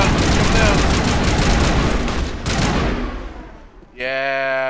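Gunfire in Mass Effect Legendary Edition, loud rapid bursts of automatic shots rattling continuously for several seconds before fading, followed by a brief tonal electronic sound.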